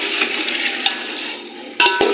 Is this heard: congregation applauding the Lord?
no